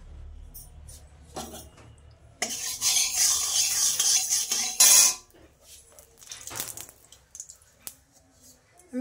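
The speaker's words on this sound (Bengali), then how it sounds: "আমি কড়াইয়ের মধ্যে দেখো রসুনগুলো, তারপরে লঙ্কা, পেঁয়াজ মানে যেগুলো আমি এখানে নিয়েছি সবগুলো দিয়ে দিচ্ছি।" Garlic, chilli and onion hit hot oil in a kadai, a loud burst of sizzling and spattering with stirring scrapes, then quieter frying and occasional utensil clinks against the pan.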